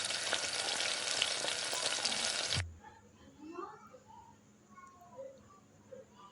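Potato chicken kababs fry in a pan with a loud steady sizzle that cuts off suddenly, followed by quiet scattered small pops and clinks.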